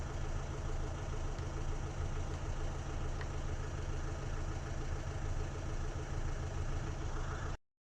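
A car engine idles steadily and close up, a dense, unchanging rumble that holds for about seven seconds before cutting off abruptly.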